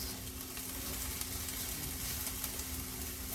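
Meat sizzling in a new non-Teflon skillet, a continuous faint crackle and hiss at moderate distance, steady throughout with no voices.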